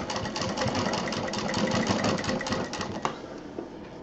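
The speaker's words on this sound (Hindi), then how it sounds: "अब इसको हमें जो लाइनें हैं एक एक करके इस तरह से सिलेंगे" A sewing machine stitching quilting lines through layered fabric, a rapid steady mechanical whir and patter at close range, with a single louder click near the end and no talking.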